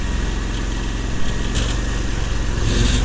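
The engine of an 8x8 Frontier 650 amphibious ATV drones loudly and steadily while driving upstream in a river, its throbbing pulse rising slightly as revs increase, with splashy noise around it and no talking.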